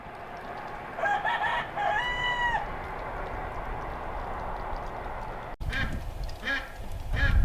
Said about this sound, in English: there is a lot of rooster crowing